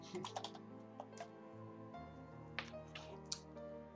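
Someone typing on a computer keyboard makes quiet, irregular clicking keystrokes in short clusters over a low steady hum.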